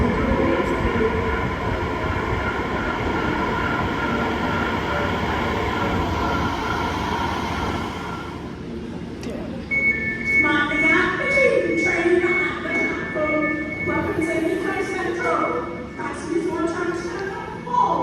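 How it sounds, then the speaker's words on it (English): A Heathrow airport terminal shuttle train rolls into the platform with a loud steady rumble that fades, then whining electric tones and hiss as it stops close by, with a recorded announcement playing over it. "Please stand back from the platform edge as the next train approaches."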